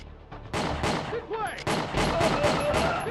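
Pistol gunfire in the video game Condemned 2: Bloodshot, several sharp close shots in quick succession amid game ambience, with ricochet-like whines and debris sounds between them.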